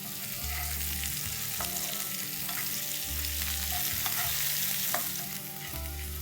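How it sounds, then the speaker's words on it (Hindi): Onions fry in oil until brown for dal gosht, giving a loud, continuous sizzle and crackle with periodic clanks and scrapes of stirring. "प्याज अच्छे ब्राउन हो चुके हैं।"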